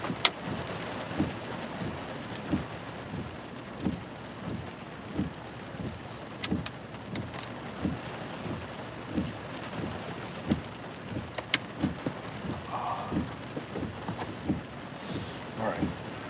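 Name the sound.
rain and thunderstorm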